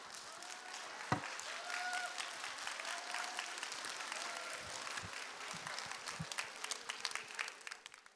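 A church congregation claps in sustained, dense applause for several seconds, a broad even patter with a few sharper claps standing out, and brief voices faintly beneath.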